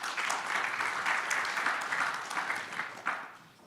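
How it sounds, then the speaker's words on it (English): Steady audience applause at a defense innovation and startup conference session, a dense, even wash of many hands clapping that holds at moderate level throughout, with a slightly louder burst near the end. "Once again, big applause for our MC."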